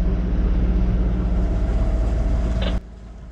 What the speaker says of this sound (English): We don't have any wind, but that's perfect because we just want to test the engine.